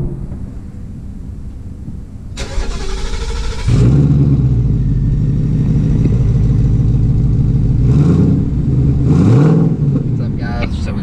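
A 2018 Ford Mustang's stock (non-active) exhaust rumbles and revs, rising and falling in pitch a few times, with a brief sharp noise early on.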